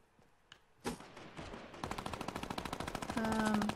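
Distant gunfire in the Fortnite video game, beginning with a few isolated shots and then settling into a steady rapid stream of automatic fire that grows slightly louder toward the end.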